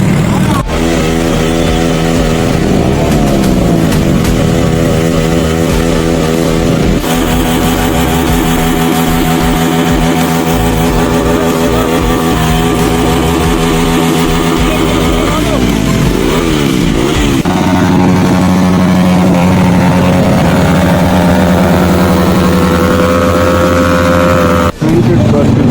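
Aprilia motorcycles rev repeatedly at a bike meet, loud rising and falling engine whines with sharp throttle blips, while people talk over the engines throughout.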